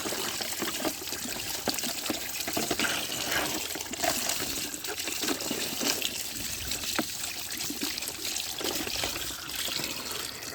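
Tap water runs with force over toy cars, trains, buses and trucks being rinsed clean, a continuous close hiss and splash that holds steady throughout with no talking.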